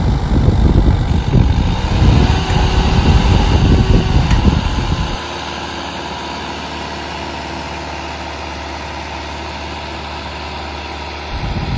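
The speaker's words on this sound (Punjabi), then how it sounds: "ਨਾਲ ਦੇ ਸਾਰੇ ਟਰੈਕਟਰ ਘੈਂਟ ਜੋਰ ਮਾਰ ਰਹੇ ਹਨ" Modified tractors straining hard while pulling soil-filled harrows in a village challenge: a loud, rough diesel roar for about five seconds, then a steadier, lower engine drone that holds to the end, with no talking.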